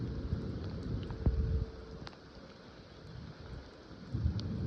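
Severe thunderstorm with steady rain hissing and low rumbles of distant thunder, swelling and fading, with a sharp crack near the start.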